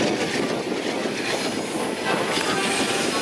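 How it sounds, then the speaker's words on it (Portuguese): A passenger train led by Australian-built locomotive 9380 rolls past on the line between Guararema and Luiz Carlos, a loud continuous rumble of wheels and cars close by, with rail squeal and no talk. "9380, locomotiva líder, famosa canguruzão, né? Canguru, porque é uma locomotiva de origem australiana."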